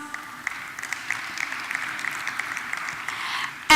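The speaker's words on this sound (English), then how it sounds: "Let's give her a round of applause." Audience applause at a global conference panel, dense steady clapping from a seated crowd that rises briefly near the end.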